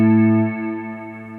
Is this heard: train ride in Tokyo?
no